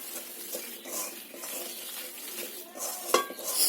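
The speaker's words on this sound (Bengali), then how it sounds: "এটা কড়াইতে একটু ভালো করে মেখে নিচ্ছি।" Thin jaggery filling being mixed in a wok with a spoon; quiet, continuous scraping and stirring with occasional light metal clinks, no sizzle dominating.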